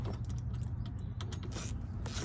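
A wrench ratchets as bolts are retightened on the side step brackets of a 2021 Ford Bronco, producing faint, continuous clicking and creaking mechanical noise with no talk.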